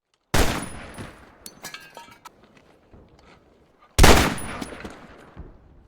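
Two loud, close gunshots about four seconds apart from a soldier shooting prisoners during the battle of Iwo Jima, each shot followed by a rattling, decaying echo and scattered thuds.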